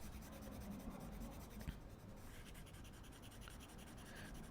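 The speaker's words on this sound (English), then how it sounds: "I'm going to erase this." Writing being erased from a board, a soft steady rubbing that goes on throughout, faint and close, with one brief tap near the middle and no talking.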